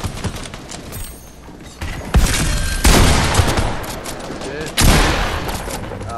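A video game gun sprays out loud automatic bursts in several long runs separated by brief gaps, with a player's voice faintly underneath.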